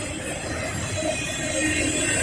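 An eastbound Norfolk Southern freight train approaches near milepost 18.0 with a broad, steady rumble and a faint metallic whine above it, growing slightly louder. No voices are heard.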